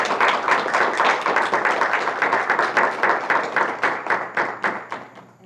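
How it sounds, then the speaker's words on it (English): An audience claps in dense, steady applause at an SVSU alumni author showcase event, the sharp overlapping claps staying loud and close before thinning out and tapering near the end. "applause."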